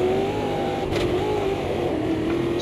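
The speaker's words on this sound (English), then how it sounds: "Still wheel spinning in second." A race car in Automobilista 2 spins its wheels in second gear on a wet track with puddles, giving a loud, continuous engine roar whose pitch rises and dips as the revs surge.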